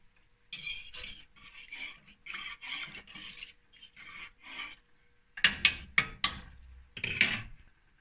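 A spoon stirs French onion soup in a pot with rhythmic rasping, rubbing strokes in short bursts, followed by a few sharper clanks against the pot near the end.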